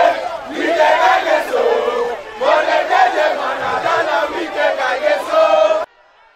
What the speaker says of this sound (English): market women and shop owners sang the praises of the state governor